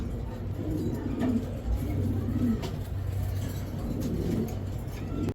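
A pair of large red checker racing pigeons, a hen and a cock, give low, soft cooing calls in a few short phrases over steady background hum and distant traffic.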